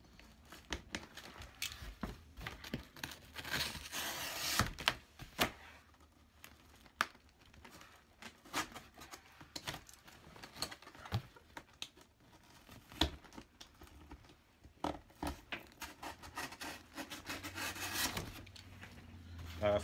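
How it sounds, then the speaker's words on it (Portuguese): Utility knife slicing through the corners of a cardboard box, heard as a run of close, dry scraping and rasping cuts with faint crinkles, quiet overall and with no one talking. "Depois que você fizer a marcação, você vem só com um estilete aqui nos cantos"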